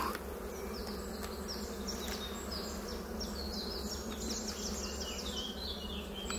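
A honeybee swarm hums steadily and fairly close for the whole stretch, a dense continuous drone with no voices over it.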